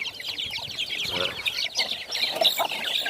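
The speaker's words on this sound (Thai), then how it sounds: "ชุดนี้เป็นไก่ชนทั้งหมดครับแม่ไก่ชนพ่อไก่ชนนะครับ" Gamecock hens and roosters cluck continuously in a flock, overlapping high chirpy calls and short clucks, steady and moderately loud with no talking.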